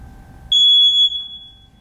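A single loud, piercing electronic beep from a smoke detector being tested, held steady for about half a second, then cut off, over faint background rumble.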